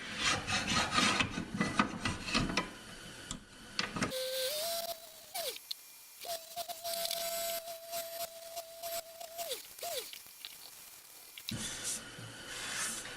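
A wooden bowl turns on a lathe, with rough rasping cuts at the start and end and a steady, whining tonal hum from the spinning work in between, heard up close without speech.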